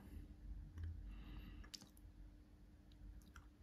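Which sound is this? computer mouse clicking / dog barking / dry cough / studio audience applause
computer mouse clicking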